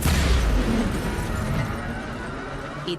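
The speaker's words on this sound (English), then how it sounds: "Mayor Nightingale perished in an explosion at City 31's Memorial Museum" An explosion in the video game XCOM: Chimera Squad: a dense, rumbling blast that stays as a steady wash of noise and slowly thins out, loud and with nothing else heard over it.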